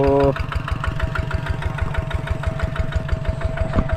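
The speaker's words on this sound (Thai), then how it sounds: "นิ่มคักแท้เสียงรถเพิ่น" A Kubota ZT tractor engine runs close up while working very hard, compacted soil, with a steady, knocking diesel chug and regular low pulses. A brief voice is heard at the start.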